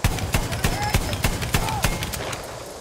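Anti-aircraft gun firing in the Battlefield 1 video game: a steady burst of about a dozen evenly spaced, loud booming shots over roughly three seconds, close and alone with no talk.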